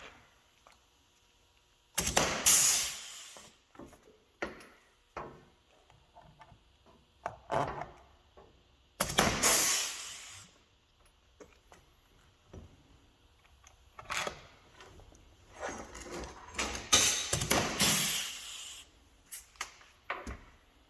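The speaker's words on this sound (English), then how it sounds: "You don't want to pop one rivet and then find out your next one won't fit through the hole." Pop rivets being set on a Yoshimura motorcycle muffler during repacking, heard as several loud, sharp snapping bursts spaced seconds apart, with lighter clicks and tool handling between them and no talking.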